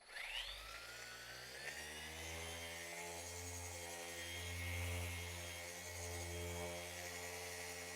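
An old Rupes 3-inch polisher runs on a wheel while ceramic coating is applied. It gives a steady, close-up motor hum with strong harmonics that rises at the start and stays continuous throughout, with no speech.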